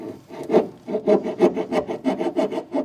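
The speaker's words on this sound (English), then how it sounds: "And when you're done filing, you can kind of clear it off some" A hand file rasps back and forth against a part of a retractable hard tonneau cover being fitted to a 2024 Chevrolet pickup, with about ten steady rhythmic strokes, close and fairly loud, with no talk.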